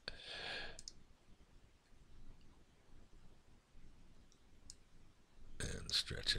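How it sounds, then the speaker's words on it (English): Sharp computer mouse clicks come in quick pairs at the start and again near the end, close and crisp over a faint, quiet background, with no talking in between. "Let's click on this"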